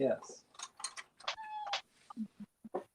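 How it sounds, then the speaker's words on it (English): A small house cat meows repeatedly at floor level, several short plaintive cries in quick succession, with a person talking over them. "I have my my little kitty is right down here, just desperate to get up here"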